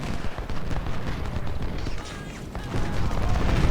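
Artillery booms and rifle volleys from an American Civil War battle at Perryville in Ultimate General: Civil War, a dense, continuous rumble of distant and mid-range fire with scattered cracks and no pauses.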